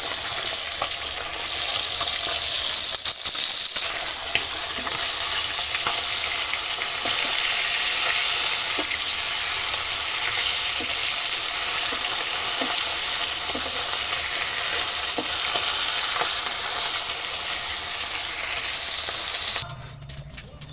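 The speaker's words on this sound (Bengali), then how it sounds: "মাথা ভাজা হচ্ছে এরকম" Snakehead fish head frying in oil in a village kitchen, a loud continuous sizzle and hiss that holds steady throughout, then suddenly drops near the end.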